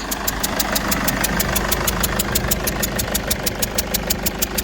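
A Mercedes E220 W211 estate engine idles with a leaking injector seal, giving a steady close rumble overlaid with a rapid, regular ticking that repeats throughout.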